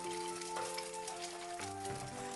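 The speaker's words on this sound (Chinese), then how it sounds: "再利用煎豆腐的油把鸡蛋煎一下" Eggs sizzling in leftover oil from pan-frying tofu, a steady soft crackle and hiss with faint kitchen hum, heard close and alone at low volume.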